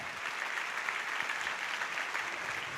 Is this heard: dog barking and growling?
no